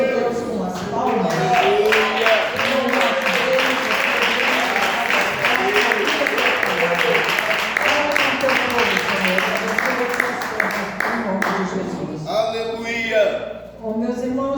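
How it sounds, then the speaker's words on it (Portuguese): A church congregation claps together in steady rhythmic unison for about twelve seconds, loud and close, before the clapping fades and a voice begins speaking. "Glorificando ao Senhor nosso Deus com as palmas."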